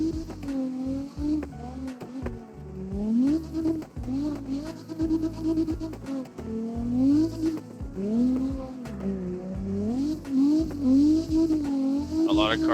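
A car engine in the racing game CarX revs up and down through repeated rising and falling sweeps, fairly loud and close, with someone talking over it.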